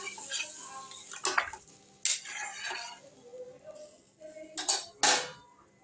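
A lid set down on a pot of Bengali vegetarian potato curry (alur dom) just after water is added: a few quiet metallic clinks and clanks spread over several seconds, with no talking.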